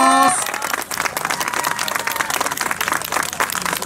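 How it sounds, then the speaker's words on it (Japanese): An audience applauds steadily and loudly at the 2019 All-Japan Trial Championship awards ceremony in Tohoku, with a brief announcer's voice at the very start before sustained clapping fills the rest. "大きな声援拍手お願いいたします"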